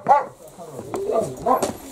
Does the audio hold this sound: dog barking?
yes